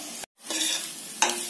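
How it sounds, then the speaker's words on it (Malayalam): Carrot and paneer pieces stirred into a frying curry: a steady, close sizzle with spoon strokes scraping the pan, broken by a brief silent cut near the start. "നമ്മൾ കഷ്ണങ്ങളായി അരിഞ്ഞു വെച്ചിരിക്കുന്ന ക്യാരറ്റ് ചേർത്ത് നന്നായിട്ട് മിക്സ് ചെയ്യാം"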